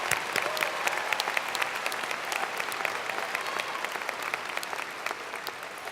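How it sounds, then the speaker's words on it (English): A commencement audience applauds steadily for the full stretch, a dense, even wash of many hands clapping with sharp individual claps standing out, and no talking over it. "let's give him another round of applause"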